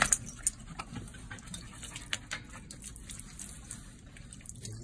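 Water poured over a hot American Bully-type dog during outdoor exercise, heard as faint, irregular splashing and dripping over a steady low background rumble.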